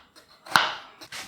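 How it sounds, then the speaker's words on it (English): A knife chops coriander leaves finely on a board, a few soft close cuts followed by one sharper, louder chop and a couple of quieter strokes. "Just chop those finely"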